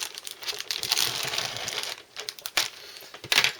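Plastic bag holding Airfix Bristol Blenheim Mk.IV F kit parts being cut and opened, close crinkling and rustling plastic with a few sharper crackles, continuous and fairly loud.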